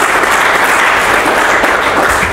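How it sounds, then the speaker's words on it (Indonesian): A church congregation breaks into loud, dense, continuous clapping that fills the whole moment without pause, with no talk above it. "Kasih tepuk tangan."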